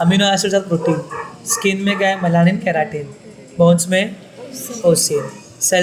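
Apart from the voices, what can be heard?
No everyday noises stand out.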